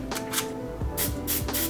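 Hairspray is sprayed onto a small eyebrow brush in several short, close hissing bursts that stand out over steady background music.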